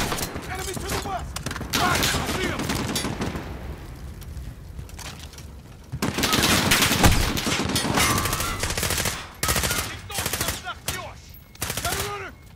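Machine gun fire in a Call of Duty: Modern Warfare firefight, with loud sustained bursts and rapid shots across the whole stretch, briefly thinning before resuming, while soldiers shout over the battle.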